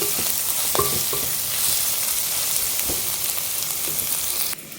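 Chopped tomato and spice masala paste sizzle in a pan, a steady close frying hiss with a few scrape-like stirring knocks, stopping abruptly near the end.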